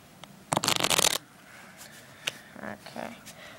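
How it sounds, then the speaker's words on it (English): A deck of playing cards is riffle-shuffled in one quick, crisp burst of fluttering, followed by a few softer taps and slides as the cards are squared up, close and clear. "now, I'm going to shuffle the deck."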